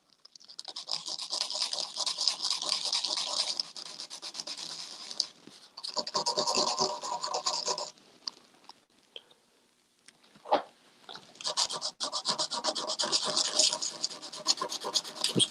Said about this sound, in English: I'm just going to take a piece of sandpaper and I'm just going to flatten it out very carefully